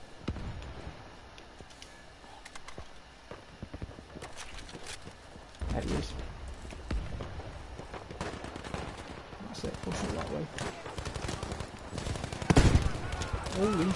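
Battlefield V gunfire crackles in bursts and single shots amid battlefield clatter, growing denser and louder toward the end, with a player talking over the action.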